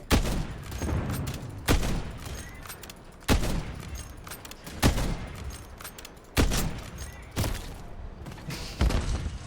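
An XRK Stalker (CDX-50) sniper rifle fires in Call of Duty: Modern Warfare III, six loud booming shots spaced about every one and a half seconds, each with a brief decaying tail.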